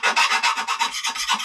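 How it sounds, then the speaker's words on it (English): A file rasps over the freshly cut edge of a metal tube in quick back-and-forth strokes, about ten scraping passes in a steady rhythm, close and loud with no talking. "You need to smooth those edges because from cutting this tube, there's a little bit of flash on the inside"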